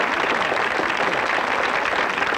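A television talk-show studio audience applauds in a dense, steady wash of clapping that holds at an even, fairly loud level throughout.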